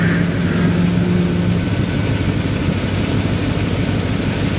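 Lincoln MKZ engine idling smoothly after a misfire repair, a steady close rumble with a fairly even hum and no talk over it.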